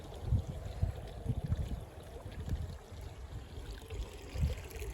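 Water runs over rocks in a backyard stream feeding a DIY pond, a steady low burble and trickle with soft splashes, close by and continuous with no voices.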